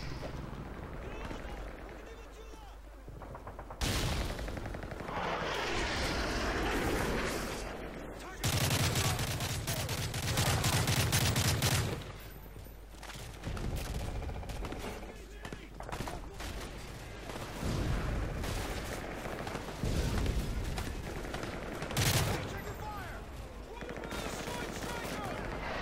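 Gunfire from weapons in Call of Duty Modern Warfare 3 on Xbox 360, dense bursts of automatic fire and shots running almost continuously through a loud battle, with someone talking over it.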